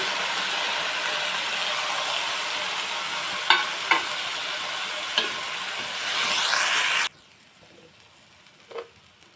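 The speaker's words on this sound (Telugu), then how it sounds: "ఆ రైస్ వేసుకోవాలి వేసుకొని బాగా కలపాలి" Washed rice being stirred into vegetable biryani in a pot: a steady frying hiss with a few sharp scrapes and knocks of the spoon, which stops abruptly near the end, followed by quiet. No one speaks.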